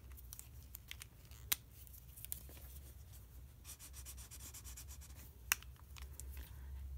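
Pen or pencil strokes drawing lines while a precalculus problem is worked, with soft scratches and a few sharper taps against a quiet, low hum and no talking.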